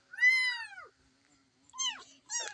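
Young kittens meow in two or three loud, close cries with quiet gaps between them, each call a bright, wavering mew that rises and falls.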